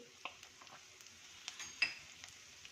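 Onion and potato fry in a pan with a faint, steady sizzle and scattered soft stirring ticks, quiet and close.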